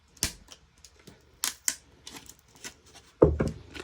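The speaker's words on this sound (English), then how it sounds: "it's a piece of tape covering it. Let me try to get this off." Tape being peeled off a PS5 console during an M.2 SSD installation: a few short, sharp tearing and crinkling bursts spaced apart, ending in a louder, longer rip, close and alone.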